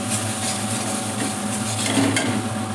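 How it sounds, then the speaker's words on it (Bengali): Spice masala for rui fish curry is stirred and sautéed in a pan, giving a dense, steady sizzle with faint scraping throughout. "আমার মশলাটা কষানো হয়ে গেছে"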